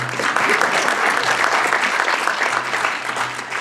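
Keynote audience at a 2011 European communication conference claps steadily for several seconds, a dense, even patter of hands filling the hall with no talking over it.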